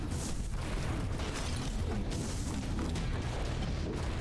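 Fire explosions in the video game Death Must Die, a dense continuous barrage of booming blasts and crackling bursts layered over one another, loud and unbroken throughout with no talking.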